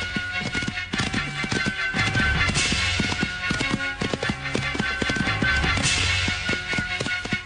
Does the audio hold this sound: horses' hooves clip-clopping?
yes